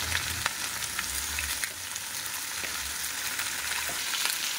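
Nuts frying in oil with salt and turmeric, a soft continuous sizzle with faint crackles and a low background hum, close but quiet and without talk.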